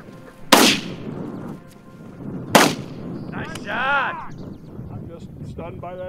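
Two loud, sharp shotgun blasts out in open country during a bird hunt, about two seconds apart, each with a short echoing tail, followed by people talking.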